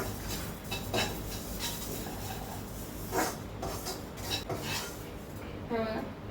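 Sesame seeds stirred in a hot kadhai while roasting, with steady scraping and clinking of a spoon against the metal pan, repeated strokes close up.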